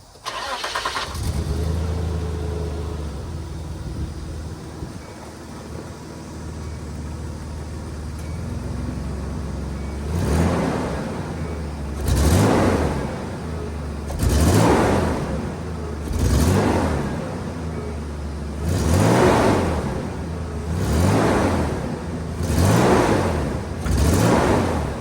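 A Nissan Hardbody pickup truck from an auction cranks and starts, then settles into a rough idle before being revved up six or seven times in rising, evenly spaced bursts, loud and close with no talking.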